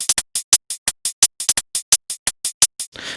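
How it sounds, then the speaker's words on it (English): Electronic hi-hats with no sidechain ducking, in a bass music remix: a steady run of crisp, bright ticks with even spacing and short gaps. A brief burst of noisy wash closes the run. "Without the sidechain, it sounds like this."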